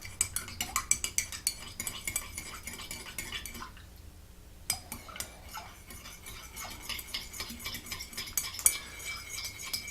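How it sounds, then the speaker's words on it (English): A spoon stirring tea in a cup, clinking quickly and steadily against the sides, close and crisp, with a brief pause partway through before the tinkling rhythm resumes. "I'm boringly stirring my tea"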